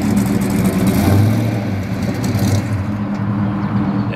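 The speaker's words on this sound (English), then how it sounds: "Underneath the hood is a 426 cubic inch Hemi V8" A 1967 Dodge Coronet RT with its 426 cubic inch Hemi V8 rumbling at idle, a loud, steady, deep engine burble that swells briefly and stays close and continuous.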